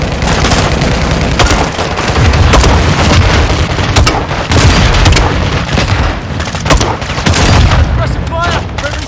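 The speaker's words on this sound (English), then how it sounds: "Incoming from the front. Grenade launcher!" Heavy explosions from grenade launcher fire in Modern Warfare II, a prison break battle, arrive in rapid bursts mixed with gunfire, loud and close throughout with no pause.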